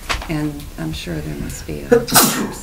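A single sharp sneeze breaks out at a public board meeting near the end, following a man's spoken sentence and louder than the speech around it.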